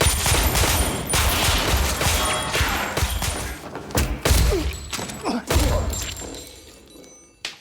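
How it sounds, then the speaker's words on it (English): A violent film fight between two men, with dense bursts of gunfire, heavy thuds and crashing impacts tumbling over one another, loud and chaotic throughout before thinning out near the end. "the two men launch into a brutal battle using guns and whatever weapons they can get their hands on"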